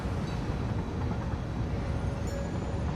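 A train runs in the factory-building video game Satisfactory, giving a steady, low rumbling drone with faint mechanical tones throughout, moderately quiet and without talk.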